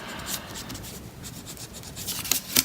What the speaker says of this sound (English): you can just rub out the edges